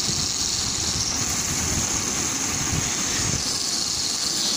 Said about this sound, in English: this spinner runs 50 seconds